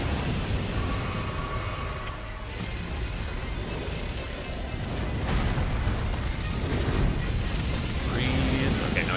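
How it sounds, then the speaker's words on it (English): A boss in Elden Ring unleashes a fire breath attack, a loud sustained roaring rush that fills the whole stretch with dense, rumbling noise. "Fire breath."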